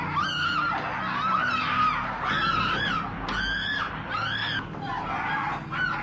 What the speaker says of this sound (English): And just like Leatherface's scream,